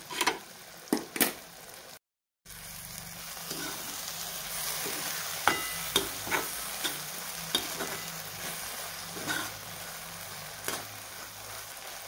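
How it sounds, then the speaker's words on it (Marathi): Egg bhurji stirred and sautéed in oil in a pan, a steady close sizzle of frying broken by sharp scraping strokes of the spoon at intervals, with no talking. "आणि आता आपण ह्याला परतून घेऊयात एकदम"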